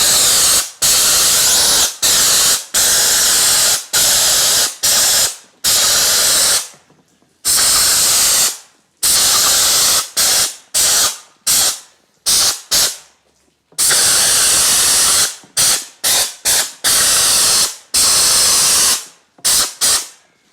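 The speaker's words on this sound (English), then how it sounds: "And for that, I'm using a straightforward undercoating gun." Undercoating gun spraying degreaser onto the rusty frame of an old U23 chassis, in loud hissing bursts of a second or two, repeated with short pauses and some longer sprays, close and alone.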